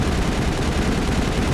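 Rapid gunfire from a weapon in the Mass Effect video game, a dense, loud burst of shots that continues without pause for the whole short stretch.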